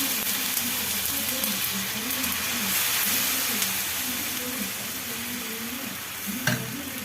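Rice flour roti batter sizzling in hot oil on a pan, a continuous crackling fry with a steady hiss and soft stirring scrapes, close and unbroken from start to end.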